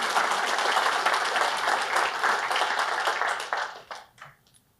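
An audience at the Laracon AU 2023 tech conference breaks into steady, dense applause that holds for several seconds and then tapers off into a few scattered final claps.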